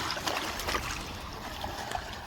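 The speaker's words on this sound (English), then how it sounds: "the waves are actually crashing higher" Waves crash and wash along the Lake Erie shore, a steady, broad rushing surge with splashing bursts, fairly close, with no voices.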